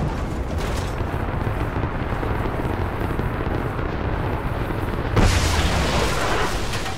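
A broad rumbling blast follows a firing in Rise of the Tomb Raider, a sustained roar that swells suddenly louder near the end, with no talking.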